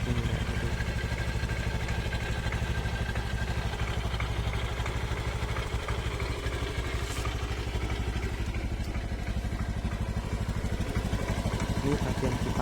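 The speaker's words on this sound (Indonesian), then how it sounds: "vandalnya dalam juga bermasalah, jadi bisa bunyi letak letak letak letak letak." A five-year-old Honda Scoopy scooter idles steadily with a worn variator, giving a continuous close, loud engine drone laced with a rapid metallic rattle and clatter throughout.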